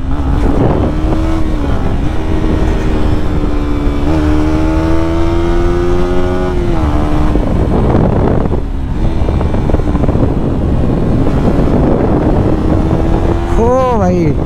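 A motorcycle engine roars steadily while riding on a road, its pitch rising and falling as gears shift, with heavy wind buffeting the microphone throughout.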